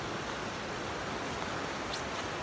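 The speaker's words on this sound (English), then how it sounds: "Actually, I think it's Forney Creek. Anyway, it's rolling like a river." Forney Creek in the Great Smoky Mountains, swollen after heavy rain, rushing like a river: a steady, dense broadband roar of flowing water, continuous and fairly close, with no speech.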